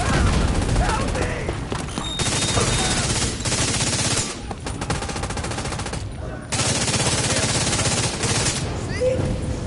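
Sustained automatic gunfire in the shooter video game The Division 2 during a hard mission in a federal emergency bunker, dense rapid bursts nearly continuous and loud, with brief pauses.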